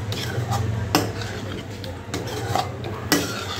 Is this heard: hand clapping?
no